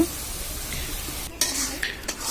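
Blended carrot frying in a pan for carrot halwa, a steady close sizzle broken by a few sharp clatters of a utensil against the pan.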